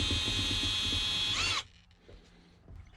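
A power drill bores holes in a full-height teardrop camper build, a loud close whine for about a second and a half before cutting off, leaving quiet workshop noise.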